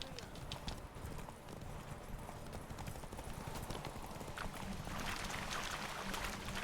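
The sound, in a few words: horse galloping in a race in The Witcher 3 video game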